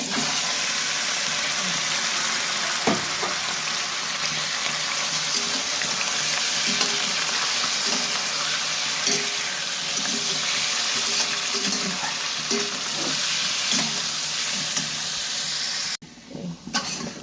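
Chicken pieces frying in a pan for biryani, a steady broadband hiss and sizzle throughout, close and fairly loud, with a brief clatter near the start and the sizzle dropping away abruptly near the end.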